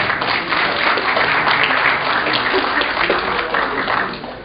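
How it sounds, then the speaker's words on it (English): An audience at a critical thinking and reading workshop applauds a former teacher, with steady, full clapping from many hands that holds evenly throughout before easing slightly at the end. "claps for him, please"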